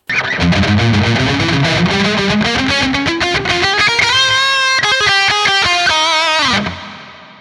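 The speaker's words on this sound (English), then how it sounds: "Just a very good sounding reverb." A distorted electric guitar played through a Hotone Ampero reverb effect plays a rising run of notes and chords that ring out, then the last chord cuts off into a fading reverb tail.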